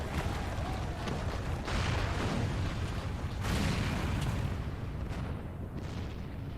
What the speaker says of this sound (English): The main tower just collapsed.